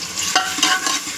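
Chopped onion fries in hot oil in a pan, a close steady sizzle with scraping stirs every few moments over about a second, no voices.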